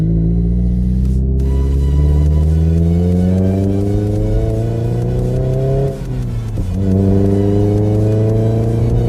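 A Toyota MR2 fitted with a Toyosport exhaust revs loudly, the engine note climbing steadily, dipping briefly, then rising again in a strong, close, continuous drone with no talking.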